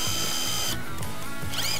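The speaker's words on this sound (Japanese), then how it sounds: "まずドリルで穴を開けて" A power drill bores holes in a thin plastic protective cover for a brush cutter, with short whining bursts of the motor close up and no talking.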